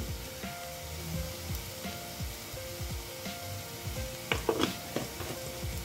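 A beetroot mixture gets dried coconut powder stirred into it in a pan, producing a soft, continuous sizzle with repeated rubbing scrapes of the spoon and a brief flurry of louder clatter near the end.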